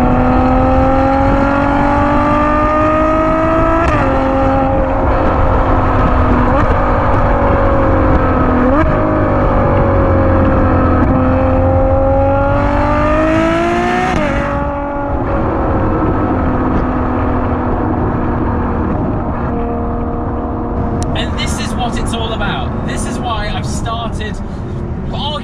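A Ferrari GTC4 Lusso's naturally aspirated V12 plays loud and close throughout, its revs rising and falling in long sweeps and climbing to a peak around the middle before settling, with a faint clatter near the end.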